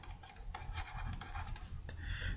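Chalk or marker scratching steadily across a board while an equation is written, continuous close scraping strokes with short pauses, no talk.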